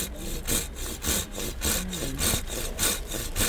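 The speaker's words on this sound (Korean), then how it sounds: "어우, 톱질 잘하신다." A handsaw cuts through a tree branch during an outdoor pruning class, making steady, rhythmic back-and-forth rasping strokes, about two per second, loud and close, with no talking over it.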